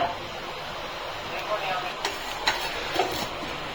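Fish fries in a pan in a home kitchen, giving a soft continuous sizzle with faint stirring clicks, heard a little way off beneath people talking.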